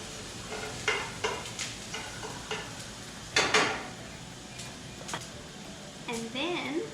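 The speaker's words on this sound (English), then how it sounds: "Mix it all together." Beef stir fry being stirred and mixed in a pan, with a low sizzle and several distinct scraping and clinking strokes of the utensil at an irregular pace, heard close under a person talking.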